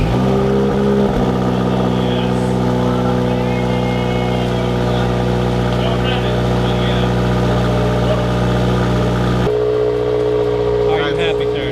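A Subaru with an FA engine and Corsa exhaust idles loudly after a cold start, a deep, steady rumbling drone with a brief rev at the beginning and a slight change in tone near the end.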